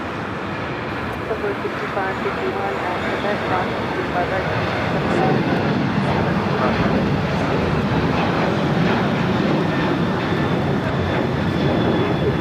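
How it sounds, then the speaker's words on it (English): An American Airlines Boeing 737-800 jet taking off from LAX for Chicago O'Hare, a broad, steady roar of engines that swells gradually, with people talking over it. "This is American Airlines 1006 taking off to Chicago O'Hare on the 737-800."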